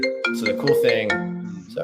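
A mobile phone ringtone sounds under someone talking, its melodic tones running for about a second and a half of the clip.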